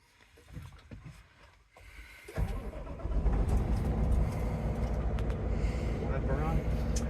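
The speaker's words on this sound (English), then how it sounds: "I'll do this, let it do its clicks, and we'll get it started up here." A 2026 Peterbilt 589 truck engine cranks and fires, rising from faint clicks and rustling into a steady, close diesel idle that keeps running, with a voice talking briefly near the start.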